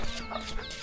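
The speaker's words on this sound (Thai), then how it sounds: "ไก่แท้อีนางเฮือนเจ้านี่" A chicken in a village of the Taoy people in southern Laos clucks in a few short, close bursts, with some faint background noise.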